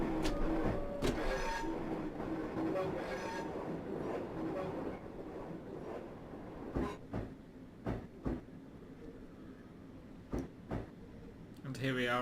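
A Class 465 EMU on the Gillingham to Swanscombe route in Train Simulator slows down with a rumbling run that fades into sparse rhythmic wheel clicks, and a voice talks over the first part.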